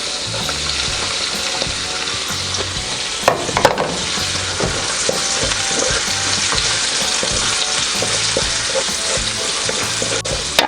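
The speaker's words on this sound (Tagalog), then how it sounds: "Ngayon, pagka medyo mainit na yung ating oil, pwede na nating simulang igisa itong ating bawang." Garlic and ginger sautéing in hot oil for a chicken dish, a steady dense sizzle with scraping stirs, a few louder clatters near the start, with no talk.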